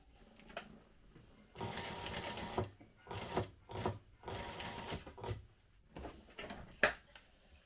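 A sewing machine runs in several short bursts while top stitching the folded interior lining of a crossbody bag, its fast whirring stitches close and clear, separated by quiet pauses and small handling clicks.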